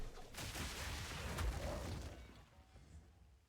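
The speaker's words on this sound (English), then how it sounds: "Titan grenade one. I did see Titan grenade visual clarity, yes. The entire screen of explosions." A dense, continuous barrage of Titan grenade explosions from Path of Exile 2 rumbles and crackles in overlapping bursts, fairly faint and steady before fading out.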